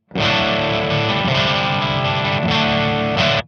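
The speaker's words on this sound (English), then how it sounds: "you can hear it break up a little bit more how you would expect an amplifier to break up" A loud, continuous overdriven guitar chord through a simulated amplifier with the master volume turned up, gritty breakup and dense distortion, sustained for a few seconds before a quick change near the end.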